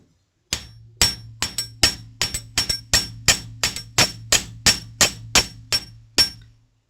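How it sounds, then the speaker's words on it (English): A chasing hammer shapes a metal Tree of Life pendant into a flare with about seventeen sharp, ringing metallic strikes in a steady, slightly uneven rhythm, close and loud, with no talking. "as I hammer, I'm pulling back slightly to guide the metal into this flare"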